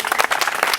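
A church congregation applauds for the Lord in a burst of quick, dense clapping that sounds close and lively.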